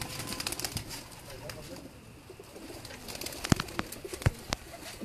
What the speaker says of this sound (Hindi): जी ये उस्ताद बिनियामिन साहब के डब वाले कबूतर हैं जी, जो कि इनकी होम ब्रीड है